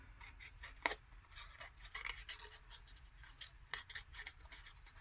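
Cutting around a sticker close up gives quiet, uneven snips and papery rasps in short clusters, with a few sharper clicks and no talking.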